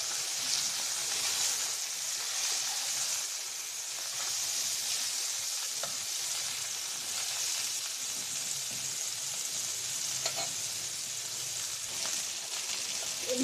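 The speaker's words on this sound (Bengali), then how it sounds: "মাছগুলো ভাজা হয়ে গেছে, এবার আমি তুলে নেব।" Fish frying in a pan, a continuous bright sizzle and hiss that stays fairly even throughout, with occasional faint pops and light stirring and no talking.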